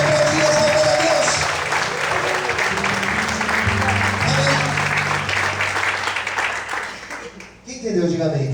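Church congregation applauding during an evening service, dense sustained clapping from a large crowd filling the room, with voices and music tones mixed underneath and a brief dip near the end.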